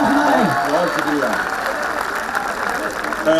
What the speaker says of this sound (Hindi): जोरदार हाथ खड़े करके ताली बजाइए